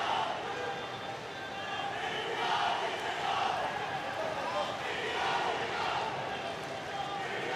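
Indian supporters in a large field hockey stadium during a Belgium versus India World Cup match, a distant, even crowd roar with swelling cheers under continuous commentator talk.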